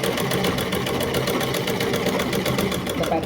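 Sewing machine stitching the neck piece of a blouse, a steady close mechanical whir with a fast even chatter running throughout, loud and continuous.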